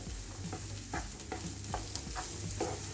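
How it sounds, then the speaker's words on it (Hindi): Green chilies and chopped capsicum fry in a pan for a dry mushroom masala while a spoon scrapes and stirs in regular strokes over a constant sizzle, with no voices. "अब हम इसमें डालेंगे हरी मिर्च और जो हमने शिमला मिर्च काटा था वो डालेंगे। अच्छे से मिलाएंगे इसे।"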